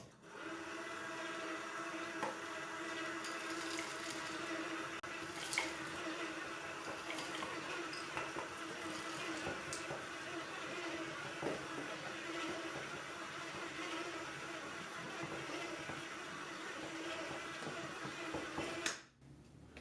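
A KitchenAid Artisan Mini stand mixer on stir speed folds butterscotch and semi-sweet chocolate chips into dough, a steady whirring motor hum with faint rattling and knocking as the head bobs, continuous and close for the whole stretch.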